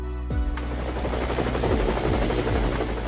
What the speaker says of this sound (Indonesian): Chen Fan dan rombongan melanjutkan perjalanan menggunakan helikopter.